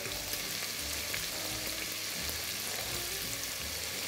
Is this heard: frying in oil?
yes